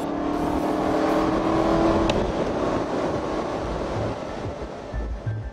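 A 2010 Aston Martin Volante convertible engine drones loudly and steadily under road and wind noise, rising and easing as it works through manual-mode gear shifts with throttle lifts.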